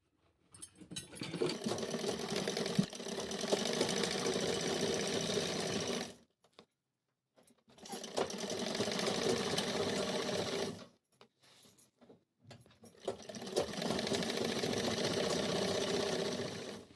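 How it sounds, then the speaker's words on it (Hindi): A sewing machine stitches the lining fabric of a sharara in three steady bursts of close, even whirring, separated by short pauses. No talk. "ये जो अस्तर का कपड़ा है इसे हम सिलते हुए नीचे तक लेके जाएंगे इस तरह से"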